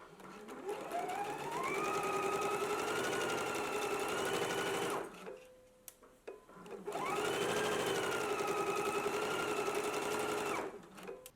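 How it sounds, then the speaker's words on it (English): A sewing machine stitches a dress seam in two long, steady runs of motor whir, with a brief pause and a click between them. "I'm going to go ahead and stitch it in a 5/8 of an inch seam allowance"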